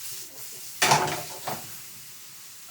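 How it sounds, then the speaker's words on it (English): Onions sauteing in a pan while haddock with parsley sauce is prepared, with a brief burst of sizzling and stirring around the pan, a second smaller flare, then a low steady hiss with no talking. "I'm gonna saute some onions"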